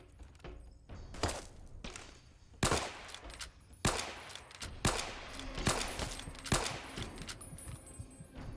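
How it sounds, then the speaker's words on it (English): Varmint rifle shots ring out in Fallout: Tale of Two Wastelands, a series of sharp, loud cracks spaced about a second apart over a low ambient bed, with no talking. "I'll try and get him with the varmint rifle"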